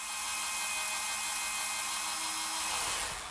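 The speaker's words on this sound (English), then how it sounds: "When we hit the floor, then we have to go to a masonry bit." A power drill fitted with a masonry bit works into an old concrete floor beneath a framed wall, a sustained harsh whirring grind heard up close, steady throughout and alone, with no talk.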